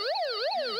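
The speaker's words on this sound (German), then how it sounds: "dann geht gleich eine Sirene" An electronic emergency siren from a small portable radio wails loudly, its pitch sweeping up and down in a fast, repeating cycle with no voices.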